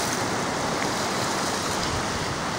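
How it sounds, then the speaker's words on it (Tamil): Sea waves roll in at Kanyakumari where river water meets the ocean, a loud continuous wash of surf with wind noise and no speech. "இது கடல்,"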